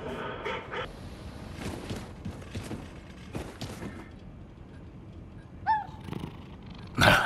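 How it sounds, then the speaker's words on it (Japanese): Cat from Wolfenstein II purring at low volume over a background game soundscape, with a short, higher meow-like call near the end. "かわいい猫、"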